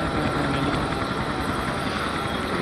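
A fighter helicopter in the Gangstar Vegas video game flies with a constant loud, dense rotor and engine roar that stays steady and fills the whole stretch, with no talk.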